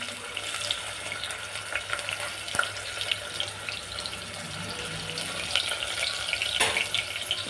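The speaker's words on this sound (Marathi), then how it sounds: "कांदा टमाटा तळतोय" Chopped onion and tomato fry in a pan with oil, giving a steady close sizzle with faint scattered crackles and an occasional scrape of stirring, no talk.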